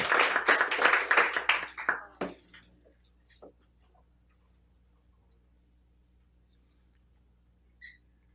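An audience at a poetry reading claps in a short burst that quickly thins out and fades, with a few isolated claps and small room noises afterward.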